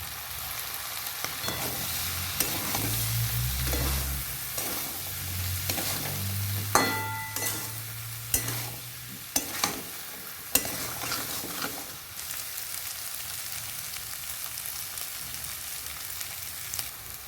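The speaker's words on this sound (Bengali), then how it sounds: "ভালো করে কষিয়ে নেব" Ghugni, a spiced peas curry, being sautéed and stirred in a pan: steady close sizzle of frying with scraping stir strokes and a few sharp clinks of the spoon against the pan, no talk.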